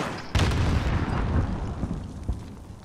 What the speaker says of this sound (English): Was that a grenade launcher?